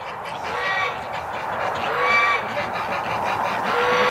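Domestic ducks and geese walking home in a row give repeated nasal honks and quacks. The calls are fairly loud and steady throughout, with no speech.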